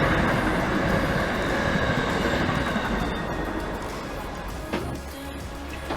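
A train rolls past close by as the boat is being worked on, a loud continuous rumble and rail roar filling the whole stretch and easing slightly toward the end, with a faint squeal near the finish.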